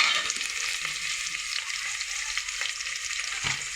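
Village-style pulao ingredients, including tomato, fry and sizzle in hot oil in a pan, a steady crackling hiss with soft stirring scrapes, close and continuous.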